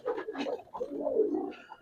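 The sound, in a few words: pigeon calling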